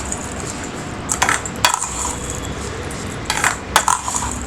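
Sugar stirred into sweet appam batter in a bowl, sparse light clinks and scrapes of a utensil against the bowl over a low steady background, with no talking.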